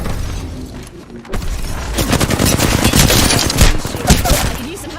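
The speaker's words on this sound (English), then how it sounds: "They're shooting at me." Dense, continuous video-game gunfire fills the scene, rapid bursts and heavy booms overlapping loudly in a sustained firefight around a Trident craft in low orbit, with a faint voice buried beneath.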